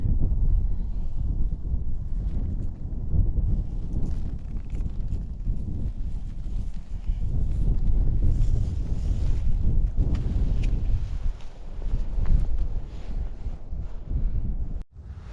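Wind blowing strongly outdoors in open country, a continuous low rumbling buffet with gusty swells and microphone noise throughout, loud and close with no talk.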